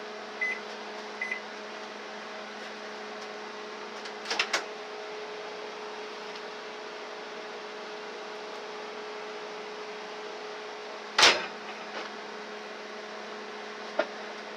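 A microwave oven heating very cold milk in a bowl, giving a steady low mains hum and fan drone throughout, close and moderately quiet, with a few brief clicks and knocks, including a sharp one near the end.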